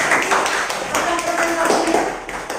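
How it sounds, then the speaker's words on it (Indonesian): A classroom audience claps briefly for their classmates after a presentation on breathing rates, a short patter of hands heard under ongoing talking. "Beri tepuk tangan buat teman-teman"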